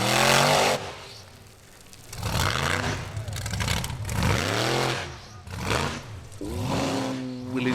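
An off-road race car from an Icelandic Formula Offroad event at Egilsstadir climbs a hill, its engine repeatedly revving hard and dropping back in loud rising and falling surges, with a commentator talking over it.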